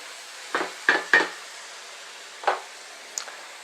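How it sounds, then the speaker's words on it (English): A spoon clinks and scrapes against a bowl while salad dressing is stirred, a few short separate taps and scrapes with quiet gaps between them. "We'll give this a bit of a stir."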